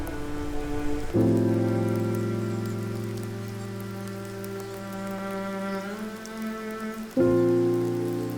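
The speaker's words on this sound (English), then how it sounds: "the ongoing downpour" Heavy rain pours down steadily in Tadoba National Park, India, over a loud, low droning hum that swells and dips, with no voices.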